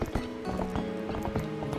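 A horse's hooves clip-clop in the video game The Legend of Zelda: Twilight Princess HD, a quick steady trot of crisp hoof strikes close by over a soft sustained musical drone.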